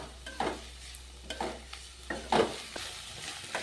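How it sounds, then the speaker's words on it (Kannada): Chillies fry in oil in a pan with a soft background sizzle, broken by several distinct spatula stirs and scrapes spaced a second or so apart; no voices. "ಹಾಗಾಗಿ ನಾ ಎಣ್ಣೆ ಒಳಗೆ ಫ್ರೈ ಮಾಡ್ಕೊಂಡ್ಬಿಡ್ತೀನಿ ಇದ್ರೊಳಗೆ ಜೊತೆನೆ"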